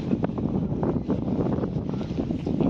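Gusty wind buffets the microphone outdoors during a patron saint festival procession in Trani, Italy, with a steady broadband rumble and roar that runs continuously throughout, and nobody speaks over it.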